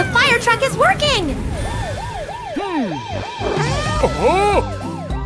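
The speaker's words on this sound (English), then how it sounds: "The fire truck is working!" A cartoon fire truck siren wails in repeated rising and falling sweeps, loud and close, mixed with bright animated sound effects in a kids' cartoon about construction vehicles, with voices speaking over parts of it.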